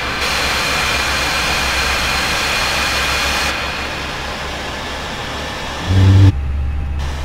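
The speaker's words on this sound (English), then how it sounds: "You can start the engines in sequence." Jet engines spool up in a flight simulator aboard a Transavia airliner during pushback at Biarritz, a steady broadband whine and low rumble that shifts partway through and briefly surges near the end.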